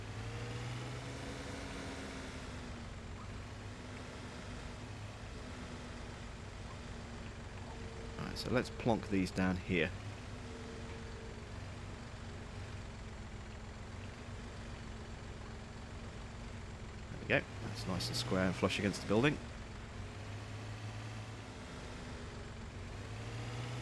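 Steady low drone of a small Massey tractor engine idling in the Farming Simulator 17 game, running continuously in the background while someone talks over it and brief clunks sound twice.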